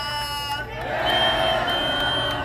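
A crowd at a Brooklyn outdoor campaign rally at Parkside Plaza cheers and whoops for a young girl named Bella, a swelling burst of applause and shouts that rises and holds, following a voice.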